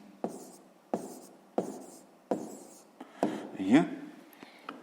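Pen scratching on paper while working through a sixth-grade math exercise: a series of short, crisp strokes at a regular pace, then a busier burst of scribbling near the end, recorded close.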